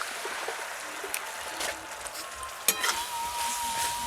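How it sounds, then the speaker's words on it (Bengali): Grated coconut and melted sugar filling for patisapta pitha gets stirred in a pan over low heat, giving a gentle continuous sizzle with a few light scraping strokes and no talking. "হালকা আঁচে নাড়াচাড়া করে পুরটা তৈরি করে নিচ্ছি"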